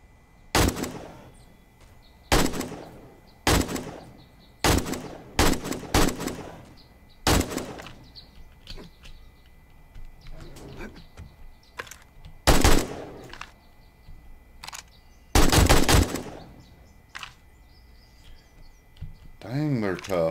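Gunfire aimed at a zombie in the video game 7 Days to Die, a string of sharp, loud single shots spaced irregularly, some in quick pairs, with birdsong and voices in the quieter gaps.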